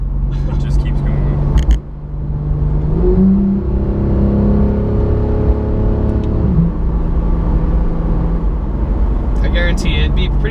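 A 2015 Porsche 911 GT3 engine pulls hard and climbs in pitch as it revs toward the top of its range, a loud, sustained rising whine over steady road rumble, briefly dropping at a shift, then continuing.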